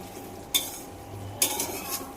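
A spoon stirs chicken gravy seasoned with pepper in a pan, making two distinct scraping strokes about a second apart against the pan, close and fairly quiet over a faint background hum, with no voices.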